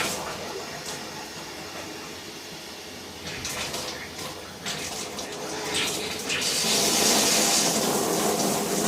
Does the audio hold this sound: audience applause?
no